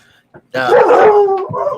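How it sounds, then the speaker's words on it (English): A dog at home gives one loud, drawn-out bark or howl close to the microphone after a brief quiet moment. A voice is heard under and around it. "Have to yell at the dogs."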